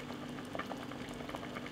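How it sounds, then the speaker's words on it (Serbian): Water with plums bubbling at a steady boil in a pot on the stove, soft irregular pops and burbles over a low constant hum, faint and close. "Šerpu stavljam na šporet i od momenta kada voda proključa, kuvat ću 15 minuta da šljiva omekša"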